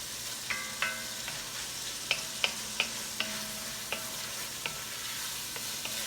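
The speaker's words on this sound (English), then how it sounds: "I like the mushrooms to cook down a lot" Mushrooms and onions cook down in a pan for an Italian chicken tetrazzini, a soft, fairly quiet sizzle punctuated by a dozen or so light tapping stirs of a utensil against the pan.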